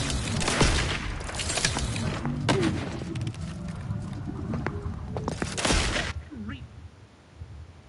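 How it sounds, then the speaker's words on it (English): Enemy gunfire from a missile handgun in the video game Outer Worlds 2, a burst of loud blasts and booms over busy combat noise, ending with quieter trailing effects and someone talking over it. "He's shooting a missile."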